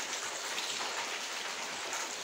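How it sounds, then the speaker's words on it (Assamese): Steady rain falls during heavy rainfall and flooding in Jorhat, Assam, making a continuous even hiss with no speech. "বৰষুণ দিয়ে আছে এতিয়াও দিয়ে আছে"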